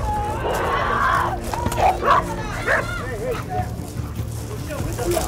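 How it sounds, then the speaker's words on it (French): A gendarmerie police canine is set upon by its owners' dogs in New Caledonia, with loud yapping, barking and whimpering bursts close by, mixed with people talking over the commotion. "Le chien de la brigade canine est attaqué par les animaux des propriétaires."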